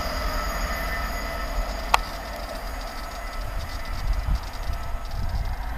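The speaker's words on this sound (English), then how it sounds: "Grand Central's class 180, number 180-106. Passes from Sunderland to London King's Cross." A Grand Central Class 180 diesel unit running from Sunderland to London King's Cross rumbles steadily past a footpath level crossing at Beningbrough, with constant wheel and rail roar and one brief sharp click partway through.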